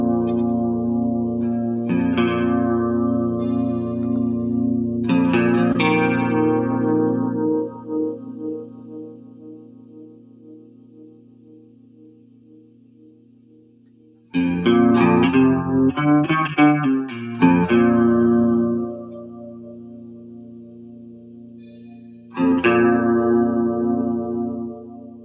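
Instrument played with a heavy chorus effect turned up, shimmering sustained notes and bursts of chords that ring out and decay slowly, with pauses between phrases and no speech.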